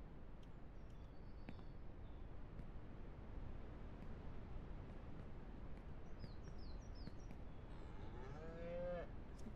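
A cow moos in the ranch game Ranch Simulator, a drawn-out low call near the end, heard over steady wind-like ambience with brief bird chirps earlier.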